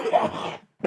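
A smoker's short, rough cough burst followed by a brief pause and a second sharp cough, close up.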